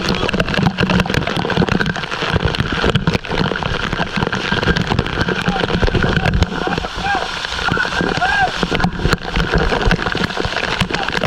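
Waterfall spray and splashing water at a swimming spot, a steady broadband rush running loud and close throughout, with a person talking over it.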